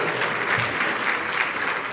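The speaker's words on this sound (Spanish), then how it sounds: "Si quieren aplaudir, aplaudan" Dense audience applause fills a hall during a sermon, steady and close, with no voices over it.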